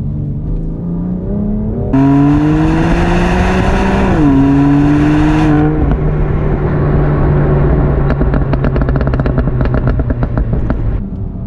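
A 500 hp bi-turbo rear-wheel-drive car accelerates hard from inside, its engine note climbing steadily through a gear, then shifting with a brief dip and pulling again, loud and continuous, ending in a lower drone with rapid crackles.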